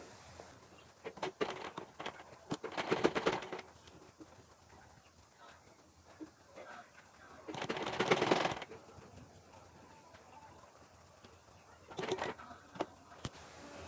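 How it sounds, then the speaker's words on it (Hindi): A sewing machine runs straight stitches along chalk marks on a lined blouse, sounding in three short rattling bursts separated by quiet pauses. "यहाँ से बराबर पकड़ के हमें ये जो चाक से निशान बनाए हैं इसी पे सीधी सिलाई हमें लगानी है"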